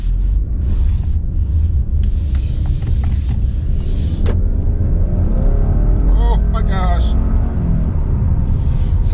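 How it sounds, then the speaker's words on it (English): Interior engine and road roar from a 2020 Subaru Legacy XT turbo sedan under acceleration, loud and continuous throughout, with someone talking over it partway through. "the first thing to do when you hop out on the road in the 2020 Subaru Legacy XT is smash that throttle"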